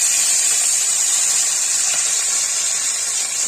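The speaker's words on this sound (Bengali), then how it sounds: "কড়াই গরম হয়ে গেছে, এবার তেল দিয়ে দিলাম কড়াইতে। এক এক করে মাছগুলো ভেজে নেব।" Fish sizzles in hot oil in a wok, a steady, loud, bright frying hiss that holds evenly from start to finish with no talking.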